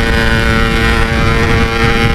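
Yamaha RX King 147 two-stroke motorcycle engine pushed hard at speed on the road, giving a loud, steady, buzzing drone with wind rush and no break.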